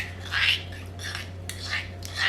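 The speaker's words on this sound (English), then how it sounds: "And then we just want to mix that up, and that is our marinade already done." Marinade for Chinese-style crispy duck legs being mixed in a bowl, with a few soft swishing strokes and scrapes over a low steady hum, close and quiet, no talking.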